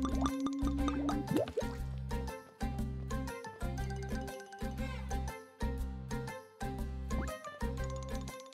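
Watering plants in the farming game Cornucopia: a steady rhythmic run of watery drips and plops with light tinkling chimes, repeating in regular pulses over game music, no talking.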